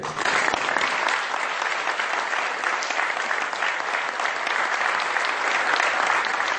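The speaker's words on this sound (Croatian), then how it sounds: "Hoću da čujem jedan aplauz za socijaliste Republike Srpske." Sustained, dense applause from an audience at a Socialist party political rally in Kozarska Dubica, loud and steady throughout with no pauses, the clapping of many hands blending into a continuous roar.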